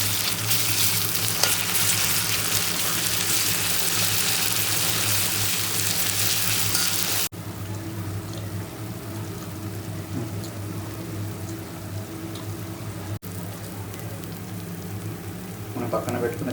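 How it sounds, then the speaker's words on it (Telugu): Chicken pieces frying in a pan for chicken fry piece biryani, a dense steady sizzle close up with occasional stirring, continuing throughout with brief dips in level. "మనం పక్కన పెట్టుకున్న చికెన్ పీసెస్ దీంట్లో వేసేసుకొని ఫ్రై చేసేసుకున్నాం."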